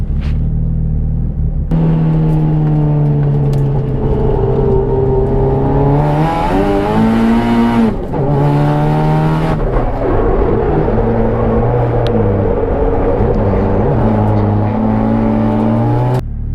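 Drift cars circling a track in tandem, engines droning and revving loudly inside the cabin with rising and falling pitch, bursts of throttle and a harsh roaring stretch midway, continuous throughout.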